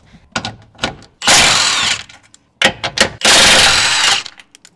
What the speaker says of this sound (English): I'll be using my impact wrench.